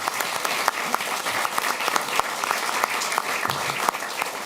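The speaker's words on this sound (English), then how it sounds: "Give him a warm applause." An audience claps for a speaker at a panel event, a short burst of dense, steady applause with a few sharper individual claps standing out, lasting a few seconds.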